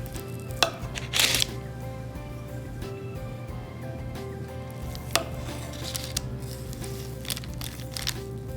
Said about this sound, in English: Okay, so let's cut a slice here.